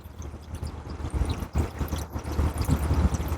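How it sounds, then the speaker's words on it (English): Water is poured into a small RC submarine boat to flood its hull, giving a continuous splashing, gurgling rush with uneven surges, close and fairly loud, with no talk. "So now I want to flood the boat a little bit."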